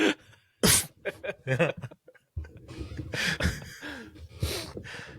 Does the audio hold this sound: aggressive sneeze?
yes